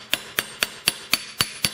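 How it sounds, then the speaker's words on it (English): A jeweller hammers the middle section of a metal ring band, with seven sharp, evenly spaced metallic taps ringing out close and clear in a steady rhythm. "I'm just going to do a little bit of hammer work just in the middle section and just work on the side"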